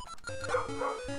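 A dog barks a few times in quick succession, fairly close, with yips mixed in over a low background hum.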